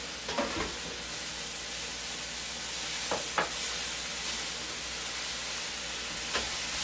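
Bean sprouts stir-frying in a hot pan for a home-cooked Chinese dinner, a steady close sizzle broken by a few sharp scraping stirs near the start, middle and end.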